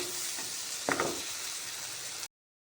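Banana flower cooks in a nut and cashew paste, making a soft, steady frying sizzle with one brief scrape of stirring near the start before the sound cuts off.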